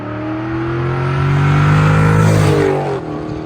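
A Chevrolet Camaro SS with stock exhaust accelerates hard nearby, its engine note climbing in a loud, steady roar before easing off.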